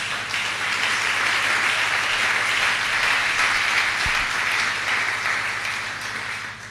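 A church congregation applauding and cheering together, a dense, loud wash of clapping that holds steady for several seconds before easing slightly at the end.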